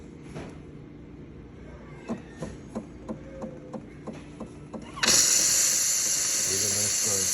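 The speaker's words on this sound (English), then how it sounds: "We get a nice dry steam." A Jura J9 coffee machine, just serviced, runs through several seconds of light rhythmic clicking and ticking, then bursts into a loud, steady, close dry-steam hiss that holds to the end.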